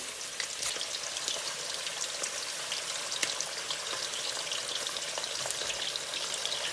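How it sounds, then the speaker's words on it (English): Meat for Uzbek plov frying over high heat, a continuous crackling sizzle with dense spitting pops, steady and moderately quiet, with no voices. "we really need to fry this meat, so it will get really fried on the outside"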